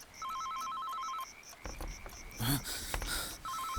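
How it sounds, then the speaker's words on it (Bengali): A telephone on a bedside table rings late at night in a Bengali horror audio drama: two bursts of clear, warbling electronic trills, near and loud, separated by a stretch of rustling and a heavy thud-like rumble. "পাশে টেবিলে রাখা ফোনটা হঠাৎ করেই বেজে উঠল"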